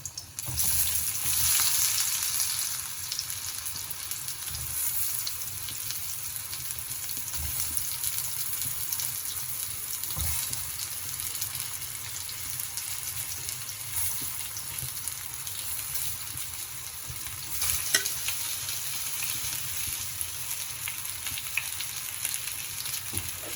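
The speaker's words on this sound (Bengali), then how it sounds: "গরম হয়ে গেছে তেল এবার আমি যে ঝিঙেগুলোকে মাখিয়ে রেখেছিলাম ম্যারিনেশনে এগুলো ভেজে নেবো" Marinated ridge gourd pieces fry in hot oil, a steady, close sizzle and crackle with a bright hiss that runs throughout, broken by a few clinks and stirring bumps in the pan.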